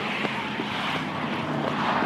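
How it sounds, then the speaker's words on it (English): Steady road traffic noise heard from a runner's position outdoors, a continuous broadband wash of passing vehicles with some wind, fairly loud and unbroken. "you will hear quite a lot more traffic noise than usual from me"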